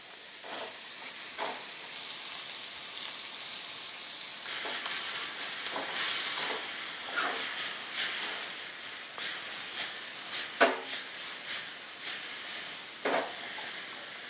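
Meat fillet sizzles and hisses steadily while being stir-fried in a pan, with bursts of louder crackle as it is tossed and stirred, close and alone without talk.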